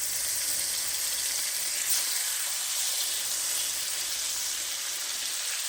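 Beef sizzles in a pan with golden-brown garlic, giving a steady, close hiss of frying with no talk over it.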